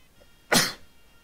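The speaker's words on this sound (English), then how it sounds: "Sorry for the sneeze." One single sneeze, sharp and fairly close, that bursts out and fades within about half a second against a quiet background.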